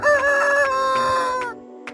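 A rooster crows once, close by: a loud, drawn-out cock-a-doodle-doo that holds steady, then trails off, with nothing else around it.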